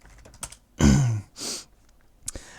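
A few scattered keystrokes on a computer keyboard, a couple of sharp clicks and one heavier press close by in a quiet room.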